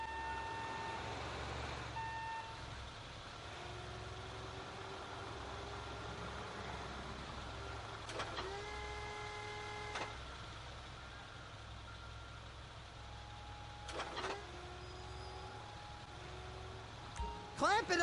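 Container handler in the video game GTA V working at the docks, its engine rumbling steadily while tonal warning beeps sound in a few short bursts, with game voices speaking over it.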